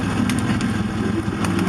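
A 1988 Ford Bronco II engine runs steadily at idle close by, its exhaust a constant low rumble with no talking.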